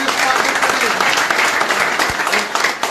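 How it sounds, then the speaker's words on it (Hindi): A crowd at a BJP joining event in Jammu and Kashmir gives a loud, dense burst of applause to welcome a new member, with a few voices mixed into the clapping. "तालियों से स्वागत करें।"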